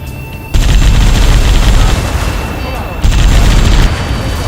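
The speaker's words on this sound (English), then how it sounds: "Missile away, bon voyage. 3 strikes confirmed." Missile strikes explode in a video game as a loud, dense roar of blasts. The rumble holds steady, then a second surge of booms hits partway through.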